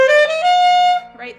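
A saxophone sounds a single high D, played sharp by biting the reed, held for about a second, loud and close, with a brief soft sound after it.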